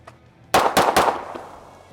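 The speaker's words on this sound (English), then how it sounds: "So let's shoot this a little bit." An Oracle Arms 2311 pistol fires three loud, close shots in quick succession, each sharp crack followed by a short ringing echo that fades out.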